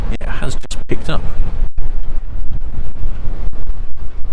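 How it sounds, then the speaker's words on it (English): Wind gusting at around 25 to 28 knots buffets an outdoor microphone at the Port of Southampton, a steady rumbling roar with sharp breaks and bursts throughout. "The outside microphone's not bad at cutting the wind noise, but it does pick up some."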